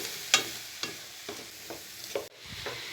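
Peas and mixed vegetables being stirred in a pan: several scraping strokes of a spoon against the pan, spaced a half second apart, over a faint soft sizzle, with no voices.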